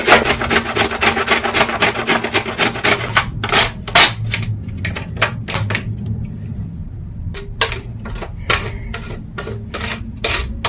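Fresh ginger is grated on a kitchen grater in brisk, close rasping strokes. The rhythm is fast at first, then broken by a short pause before the strokes resume more sparsely, with no talking over them.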